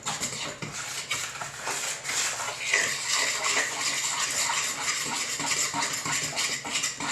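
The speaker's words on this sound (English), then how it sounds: "Go and make this into a disgusting brown slurry. Mix them all together." Wet meatloaf mixture is stirred in a bowl, with steady clinking of a utensil against the bowl and squelching, close and continuous.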